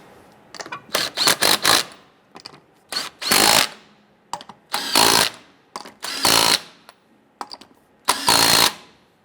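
A power impact tool tightens lug nuts on a 1997–2006 Jeep Wrangler wheel: close, loud bursts of rattling buzz, each about half a second long, repeated several times with short ticks and clicks between them.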